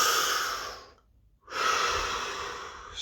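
A slow, deep breath during a guided relaxation session: a long airy exhale, a brief quiet pause, then a full drawn-in inhale, close to the microphone and soft, with no talking.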